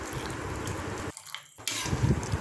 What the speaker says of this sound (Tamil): இப்போ நான் மீதி தண்ணியை இதில் ஊற்றிக்கிட்டேன்.